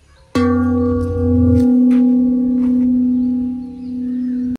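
A single strike on a carved stone in an outdoor sound garden in Auroville, India, sets off a clear ringing tone with rich harmonics that sustains for several seconds before cutting off abruptly, with faint background noises.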